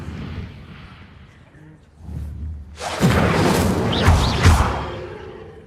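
A fire spell is cast in the wizarding video game Hogwarts Legacy: a loud whooshing burst of flame builds up and roars with deep booming thuds, following a quieter stretch of low ambience.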